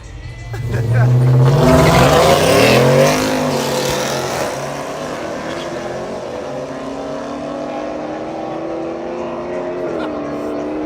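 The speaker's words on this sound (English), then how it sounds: "This muffler is disconnected from the catalytic converter." A pickup truck engine at a dragstrip, its muffler disconnected from the catalytic converter, revs up loudly and roars with a raw, rumbling exhaust, then settles into a steady idle drone, with voices talking over it.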